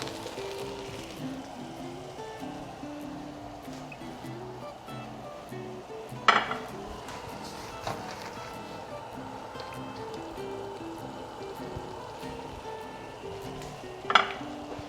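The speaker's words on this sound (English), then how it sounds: "We just want a really gentle simmer, and we're gonna let this simmer for several minutes while our spaghetti cooks" Tomato spaghetti sauce simmers gently in a pot, a soft continuous bubbling hiss close by, broken by a couple of sharp utensil clinks against the pot and faint voices in the background.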